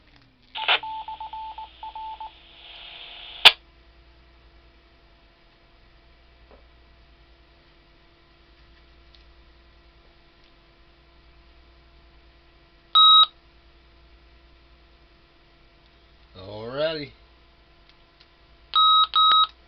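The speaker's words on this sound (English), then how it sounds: "The beeping is this radio locks, so you can't push a button to accidentally change stations." Short electronic key-lock beeps from a handheld amateur radio, a single tone and later a quick double beep, with a warbling burst and a brief spoken word in between.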